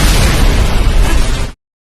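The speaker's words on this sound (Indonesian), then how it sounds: "lalu kaget dengan sebuah ledakan besar" A large explosion in a film scene, set off in a room doused with petrol, lands as a loud, dense broadband roar that holds for about one and a half seconds and then stops dead, with no voices over it.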